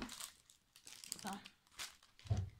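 Plastic foil crinkles and rustles in hands during a craft session, quiet intermittent crackles spread across the clip with a soft thump near the end; speech is heard around it.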